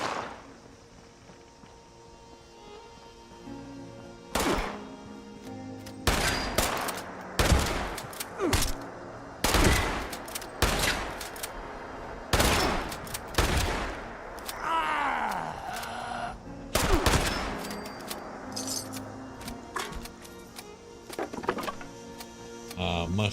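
Fallout 76 PC gameplay with bursts of loud gunfire, sharp repeated shots in irregular clusters across the stretch, alongside game sounds and some talking.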